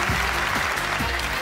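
Studio audience applause on a Persian-language family game show, a dense steady burst of clapping filling the whole short moment at even loudness, with no talk over it.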